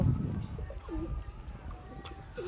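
High-flyer pigeons coo softly from a loft during rain, a few low throaty coos over a murky outdoor background.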